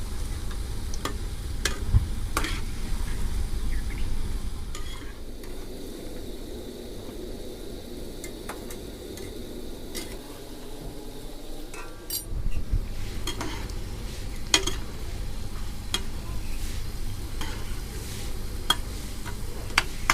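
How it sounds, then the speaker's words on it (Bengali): Sweet fulori made from egg and flour batter fry in oil while being turned over, giving a soft, steady sizzle punctuated by occasional utensil clinks and ticks. "এখন একটু উলট পালট করে একটু লাল লাল করে ভেজে নিতে হবে"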